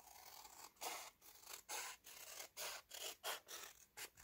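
Scissors snip through paper strips in about nine quiet, crisp cuts, each a short rasping slice, in a fairly even rhythm close by.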